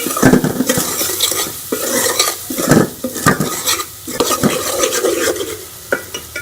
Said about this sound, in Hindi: इसके साथ मैं ये सारे मसाले भी डाल दूंगी और इसको भी मिक्स करके मिक्स कर लेंगे